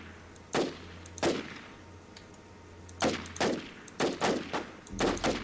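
Sporadic gunfire in the survival shooter WarZ: separate sharp shots ring out at irregular intervals, then a quicker cluster of cracks near the end, moderately loud with no talk over them.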